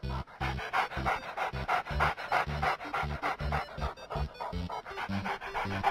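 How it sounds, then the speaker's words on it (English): A dog pants in quick, steady rhythmic breaths, close and clear, with no other sound around it. "Dog"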